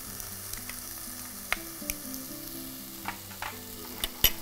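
Ginger and garlic sizzle softly in a frying pan, a quiet hiss with scattered sharp ticks and spatters, and a louder clack near the end, under faint background music, with no talking.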